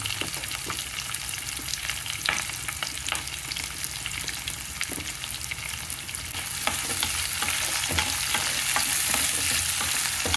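Onion pieces sizzling and crackling in hot oil for a bottle gourd curry, a steady dense fry close by with faint stirring, no talk.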